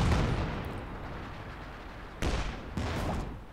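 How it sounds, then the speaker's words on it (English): Artillery fire in the strategy game Company of Heroes 2: a low rumbling barrage fades, then two sharp distant impacts land about half a second apart, each trailing off into a dull roar. "More artillery fire there, paratroops moving forwards."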